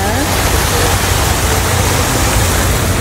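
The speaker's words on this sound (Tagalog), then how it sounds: "May falls pa." Steady broadband rush of a waterfall at the Erawan Museum in Bangkok, loud and continuous, filling the whole moment with an even roar.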